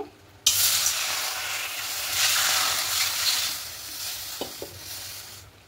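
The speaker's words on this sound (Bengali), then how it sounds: "বসেছি কড়াই, সামান্য একটু জল দেব" A little water poured into a heated kadai (wok) bursts into a loud sizzle and steamy hiss that holds for several seconds, then gradually fades, with a couple of faint clicks near the end.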